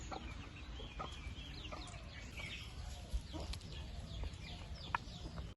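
A hen from the coop clucks quietly in short, scattered calls against a low background rumble.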